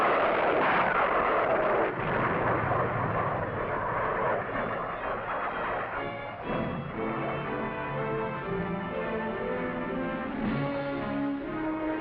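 Carrier aircraft supporting amphibious forces roar overhead in a sustained, loud engine drone that rumbles and slowly shifts in pitch as they fly past, with no speech.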